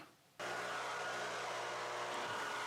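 Leaf blower clearing fall leaves off a front lawn, switching on abruptly after a moment of quiet and then holding a steady, loud whooshing drone.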